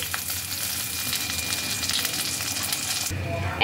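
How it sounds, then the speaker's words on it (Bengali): Tapse fish frying in hot oil, a steady dense sizzle with crackling bubbles that runs unbroken, then thins abruptly near the end as the fish are lifted from the pan. "মাছগুলো ভাজা হয়ে গেছে, এবার এগুলোকে তেল থেকে আমি তুলে আলাদা একটা পাত্রে নিয়ে নিচ্ছি।"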